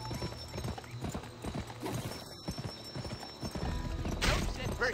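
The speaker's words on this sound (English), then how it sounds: "Press the sprint button to spur your horse." Rapid hoofbeats pound in a steady galloping rhythm, a horse running close by in the video game GUN, with a brief whinny and a voice talking over it.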